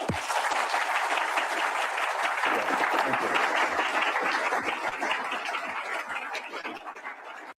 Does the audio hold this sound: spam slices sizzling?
no